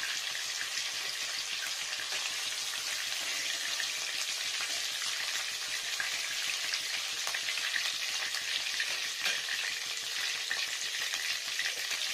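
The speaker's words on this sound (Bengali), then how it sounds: "এগুলো একটু ফ্রাই করে নিচ্ছি ফ্রেন্ডস, ফুলকপি, গাজর" Cauliflower and carrots frying in white oil, a constant close crackling sizzle with faint stirring scrapes, steady and unbroken for the whole stretch with no talk.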